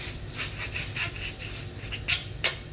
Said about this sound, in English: Now let's sand the end, make sure they're smooth for the shark bite to go on.